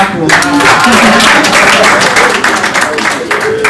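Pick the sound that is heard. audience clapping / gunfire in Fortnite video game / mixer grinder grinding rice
audience clapping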